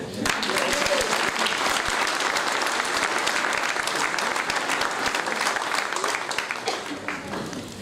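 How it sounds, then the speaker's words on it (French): An audience at a civic medal ceremony in Tarnos claps steadily and densely for a medal recipient, a sustained wash of hands from start to finish that tapers slightly near the end. "Et vous pouvez l'applaudir."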